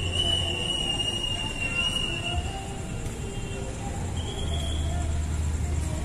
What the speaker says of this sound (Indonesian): Dan dari sana lintas langsung kereta api barang,